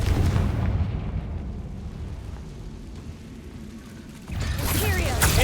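A Confringo spell explodes in the Hogwarts Legacy video game, a loud, deep, rumbling boom that fades over several seconds. A second forceful blast erupts near the end.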